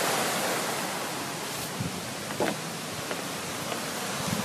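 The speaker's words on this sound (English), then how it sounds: "A lot of river action there." A river rushes beneath a narrow bridge in a steady, broadband flow of water, continuous and fairly loud throughout with a few faint splashes and no talking.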